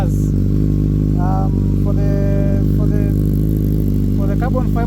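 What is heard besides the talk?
motorcycle carbon fiber exhaust, Yamaha R1 or Kawasaki Z900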